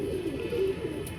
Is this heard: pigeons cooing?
yes